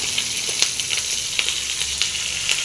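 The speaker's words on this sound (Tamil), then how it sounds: "போட்டு நல்லா ஃப்ரை பண்ணிக்கலாங்க" Curry leaves and mint fry in hot oil in a pan, a loud, close, continuous sizzle with crackling pops and light clicks scattered throughout.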